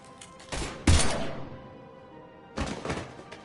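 Gunfire in the Mass Effect 3 video game: a few heavy, thudding shots with a loud burst near one second, then a second cluster of blasts later, set against a low ambient background.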